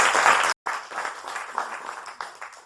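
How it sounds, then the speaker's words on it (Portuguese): Audience applause for teachers and activity coordinators at a community gathering, a brief burst of clapping cut by a short gap, then lighter, scattered claps that fade. "Uma salva de palmas para os professores e para os coordenadores de atividades."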